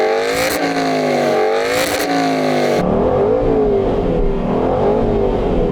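An Aston Martin's 4.7-litre V8 revs hard in two sharp blips, then settles into a rising and falling throttle sweep, loud and close with no voices.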